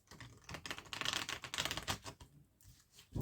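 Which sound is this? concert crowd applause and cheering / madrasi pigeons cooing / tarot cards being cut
tarot cards being cut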